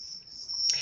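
A continuous high cricket trill inside a cabin, steady and fairly close, swelling slightly louder near the end of the short moment.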